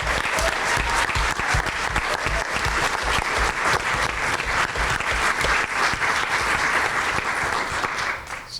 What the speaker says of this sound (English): let's just give a round of applause to our amazing group.